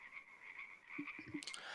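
Frogs croak near a fortified town in a fantasy setting, a steady high droning chorus with a few low throaty croaks breaking through toward the end, moderately loud and alone without talk.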